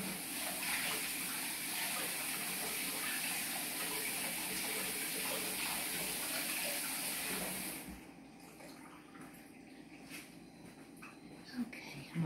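Tap water runs steadily into a sink as a lemon is rinsed under it, a loud, close rushing stream that cuts off partway through, leaving faint handling sounds.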